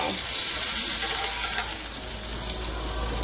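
Onions fry in a pan until soft, a steady bright sizzle and crackle running continuously at a close, even level with a couple of small pops near the end.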